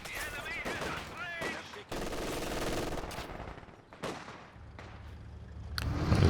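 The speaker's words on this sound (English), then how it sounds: "MG42 holds the ground" MG42 machine gun fire in Company of Heroes 2, rapid bursts of distant rattling gunfire mixed with other battle sounds, partly under commentary.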